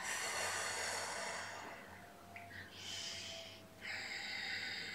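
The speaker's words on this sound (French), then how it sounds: "Expirez dans la posture. Puis relâchez. Soufflez." Long, breathy exhalations are pushed out through the mouth during a qigong routine. They are close and soft, and come in two or three drawn-out puffs with brief pauses between them.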